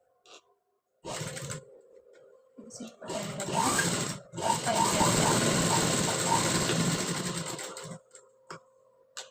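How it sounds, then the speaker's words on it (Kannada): Sewing machine stitching the back part of a high collar neck, running in close bursts: a short start, then a long steady whirring run of rapid needle clatter that stops near the end. "ಸ್ವಲ್ಪ ಸೆಟ್ ಮಾಡಿಕೊಂಡು ನಿಧಾನವಾಗಿ ಸ್ಟಿಚ್ ಮಾಡ್ಕೋಬೇಕಾಗುತ್ತೆ"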